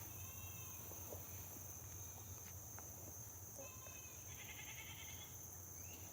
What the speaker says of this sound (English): It's not our goat. It's our neighbor's goat.